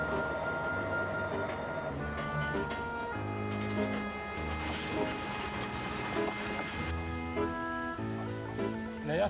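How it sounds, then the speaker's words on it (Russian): A Cuban sugar cane freight train rolls along the rails with rhythmic clanking, metallic squeals and a mechanical rattle, moderately close, while voices talk faintly. "Этот поезд поехал туда."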